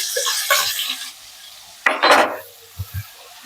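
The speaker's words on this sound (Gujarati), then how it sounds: "આપણે ધીમા તાપે સાંતળવા દેવાનું છે, બળી ના જાય એ રીતે. લસણની કચાશ દૂર થઈ જાય ત્યાં સુધી એને સાંતળવાનું છે." Ginger, garlic and chilli paste sautés over low heat in oil with mustard seeds and asafoetida. Bursts of close sizzling alternate with spoon stirs and scrapes in the pan, separated by short quiet gaps and a few soft knocks.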